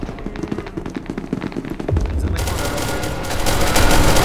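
Rapid automatic gunfire in the video game SCP: Secret Laboratory. The volley is loud and close, with dense bursts of shots that grow heavier and more sustained as it goes on.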